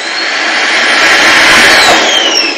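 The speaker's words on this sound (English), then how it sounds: "My son turned on the vacuum" A household vacuum cleaner runs steadily and loudly, a constant whooshing motor drone with a high whine, close by and alone.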